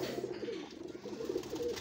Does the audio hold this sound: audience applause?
no